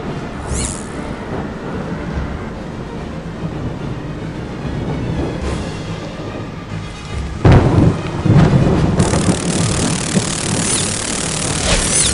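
Thunderstorm ambience from the PC Harry Potter and the Prisoner of Azkaban game on a stormy Quidditch match morning: a steady loud rumble and rain wash, with a heavier burst of thunder partway through.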